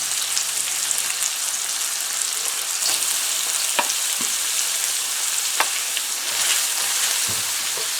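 Carrots hitting hot oil in a pan for homemade egg noodles, a continuous bright sizzle with occasional sharp clicks and knocks of a spatula stirring, close up and without speech.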